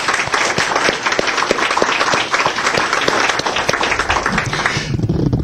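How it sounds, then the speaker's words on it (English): An audience at a seniors' laptop presentation applauding: steady, dense clapping from many hands filling the room, tailing off at the very end. "need to give you a round of applause"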